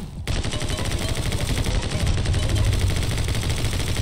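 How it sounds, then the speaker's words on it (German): Rapid gunfire from the video game My Friend Pedro, dense bursts of shots rattling continuously and loudly after a brief quiet opening. "Hört auf zu schießen, Leute."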